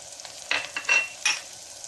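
Ridge gourd fries in a pan with coconut powder and spices, with soft sizzling under a few quick stirring scrapes, quiet and close, with no voices.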